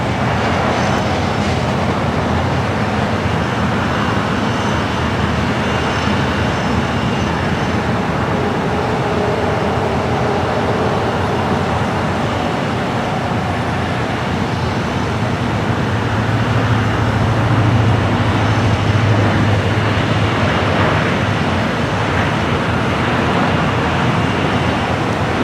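A Hawaiian Airlines A321neo arriving at LAX from Honolulu gives a steady, loud broadband roar of jet engines lasting throughout, with a low rumbling tone swelling slightly toward the end and no talk.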